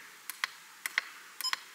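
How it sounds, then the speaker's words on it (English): Short electronic beeps from a Junctek battery monitor, several in a row with small gaps between them, clear and fairly quiet against a silent background. "Beep."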